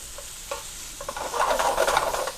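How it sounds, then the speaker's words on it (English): Onions stirred and sautéed in a pan while cooking a quiche filling, giving a steady soft sizzle with scraping stir strokes that build louder over the last second, close by with no talking. "The onions, we just like I say, we want to keep them moving."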